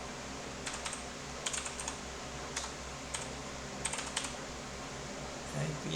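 Keys clatter on a new computer keyboard in short irregular bursts of clicks during a computer training lesson, fairly faint over steady background hiss.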